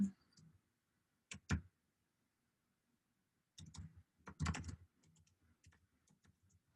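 Short bursts of typing on a computer keyboard, with quick clustered key clicks separated by pauses of near silence, fairly close and moderately loud, with no talking.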